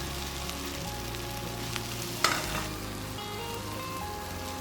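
Tempeh frying with spice paste in a wok, a steady close sizzle with light stirring scrapes and a brief louder clatter midway, no voices.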